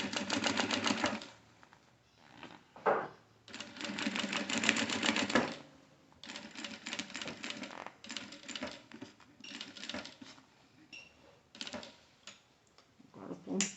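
A sewing machine topstitches a pocket flap in short, rapid stitching bursts separated by brief pauses. Its fast mechanical ticking is close and moderately quiet, with no talk over it.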